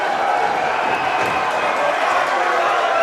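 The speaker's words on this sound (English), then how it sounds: "Listen to this sold-out crowd at the Commodore." A sold-out wrestling crowd at the Commodore in Vancouver roars in a steady, dense wall of cheering and noise that holds at full level throughout, with no pause or lull.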